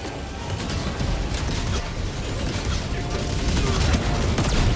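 Gunfire in the shooter game Helldivers 2 rattles as a dense, continuous barrage of rapid shots, loud and unbroken throughout, with explosions and mechanical clatter mixed in.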